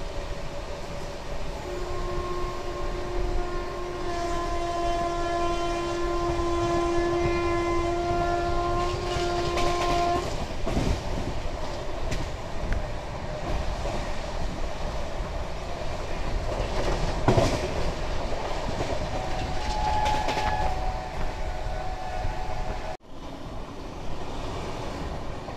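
Duronto Express train running nonstop at around 130 km/h toward Vijayawada, a steady loud rumble of wheels and carriages heard from on board, with a long horn blast early on and occasional rattles and clacks.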